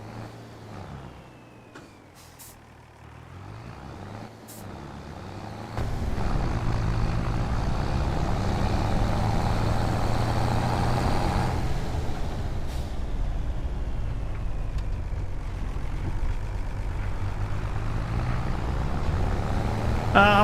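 A farm vehicle engine in a farming simulator game drones steadily, rising to a louder, fuller rumble after a few seconds and holding close and constant, with brief hiss-like air-brake releases.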